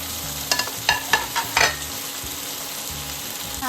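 Pabda fish frying in hot oil in a wok, a steady sizzle with several sharp spatters and spoon clinks early on, over a low hum.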